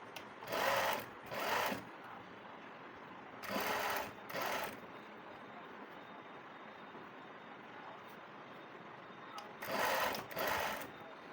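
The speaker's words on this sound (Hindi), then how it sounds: "तो इस तरह से हम किनारी के ऊपर सिलाई लगाएंगे और लास्टिक को खींचेंगे नहीं।" Sewing machine stitching along the elastic edge of a pajama in three pairs of short whirring runs, each about a second long, with steady low background noise between them.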